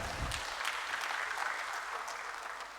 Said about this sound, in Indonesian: Tepuk tangan dulu buat istri saya.